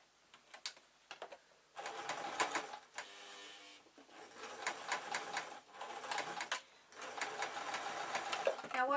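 A domestic sewing machine stitches fleece bootie slippers in close, rapid bursts of clattering needle strokes, stopping and restarting several times as it works over a corner seam.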